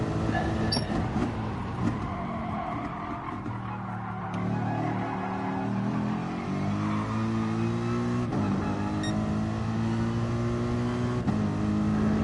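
A race car engine in a racing video game, lapping the Nürburgring GP circuit, droning steadily with pitch rising and falling through gear changes, loud and continuous with no voices.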